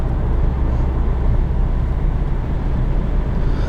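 A 2018 Infiniti QX30 Premium accelerates hard, heard from inside the cabin as a loud, steady low engine drone mixed with road rumble, continuous throughout with no speech.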